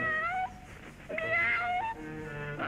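A hungry little cartoon kitty cat meows in a snowbound village, giving several drawn-out, pitch-bending meows that rise and fall, loud and close, with no talking over them.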